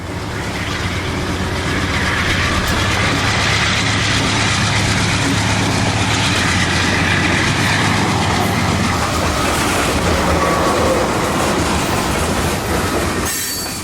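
A long freight train rolls steadily past on the rails, a dense continuous roar of wheels with faint clickety-clack and some squeal, loud and close throughout with no talking.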